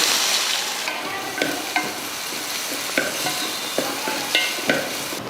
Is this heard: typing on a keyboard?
no